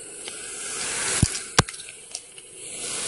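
An air track's compressor switched on and blowing air: a steady broad hiss fills the clip, broken by a couple of sharp, close knocks.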